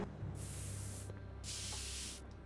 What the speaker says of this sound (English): She's spray painting the wall.